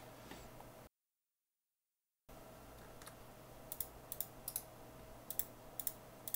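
A computer mouse clicked to save a Schneider PLC configuration, heard as faint, quiet clicks and taps scattered over a low room hum after a brief silent gap.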